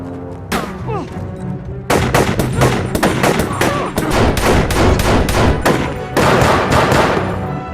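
Bursts of rapid gunfire crack back and forth in a film, loud and close, with short pauses between volleys and a few scattered single shots.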